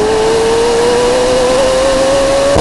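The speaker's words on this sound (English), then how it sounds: "There's also a new lightweight exhaust, which really amplifies the sound." Loud, close McLaren 750S V8 engine droning at a steady high pitch through a lightweight exhaust, rising slightly as it revs, with a raspy exhaust roar filling the short clip.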